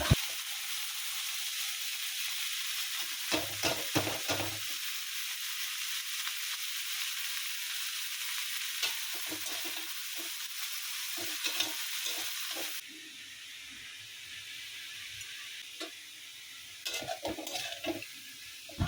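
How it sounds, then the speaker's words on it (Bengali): Dried red chillies crackle in hot mustard oil with a steady, close sizzle and scattered sharp pops, easing to a softer, thinner hiss partway through. "এখানে সরষের তেল গরম হয়ে গেছে, শুকনো লঙ্কা ফোড়নে দিয়ে দেবো।"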